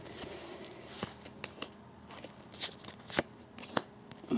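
Pokemon Black and White card packs being cut open, a soft scratchy rustle of foil wrappers and scissors with several sharp clicks and snips, close and fairly quiet, with no talking.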